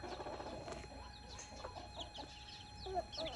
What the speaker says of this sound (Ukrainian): Курочка, курочка. Коко, да.